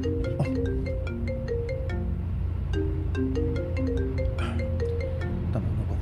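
A cellphone plays a melodic ringtone for an incoming call, a repeating electronic tune of bright stepped notes looping steadily over a constant low hum, with no talking over it.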